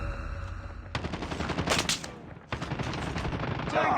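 Sniper rifle shots in a military shooter video game: two sharp, loud blasts with reverberant tails, separated by a short gap, followed by background game noise.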